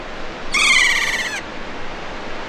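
A kea, New Zealand's alpine parrot, gives one loud, drawn-out, shrill call lasting nearly a second over a steady rush of flowing water on the west coast.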